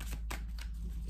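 Oracle cards are shuffled by hand, producing a few quick papery riffles and flicks over a steady low background hum, close and soft.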